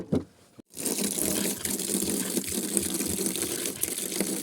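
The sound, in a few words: hot water being poured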